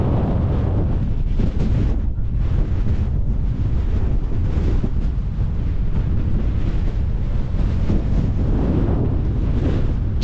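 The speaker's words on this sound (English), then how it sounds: "It is freaking windy" Strong wind at La Ventana, Baja California Sur, roars and buffets the microphone continuously, a loud low rumble with no talking.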